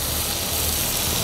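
Onion softens in a pan over a low gas flame, producing a dense, steady sizzle that stays close and even across the whole moment, without any voices.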